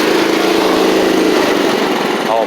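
John Deere LT150 lawn tractor engine running with its deck engaged, a loud steady small-engine drone at close range, steadying as it settles.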